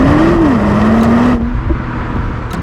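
A Nissan R35 GT-R sports car drives with a loud close engine drone and a rising then falling tone that drops to a quieter steady roar.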